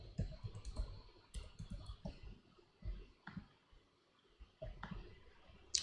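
Keys on a computer keyboard clatter in irregular bursts of quick clicks with short pauses, close and moderately loud, with a sharper tap at the very end.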